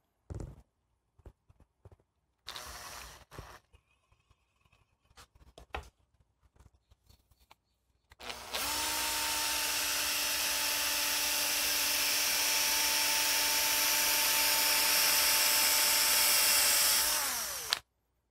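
A power drill spins wire to straighten it: scattered clicks and handling noises first, then a loud steady motor whine for about nine seconds that winds down at the end.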